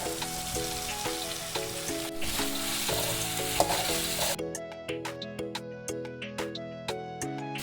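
Brinjal frying in a pan for a vegetarian curry, a steady close sizzle and crackle that continues throughout, with tuneful background music playing over it.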